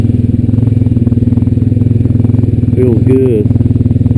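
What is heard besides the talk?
Honda Rancher 420AT ATV engine while riding trails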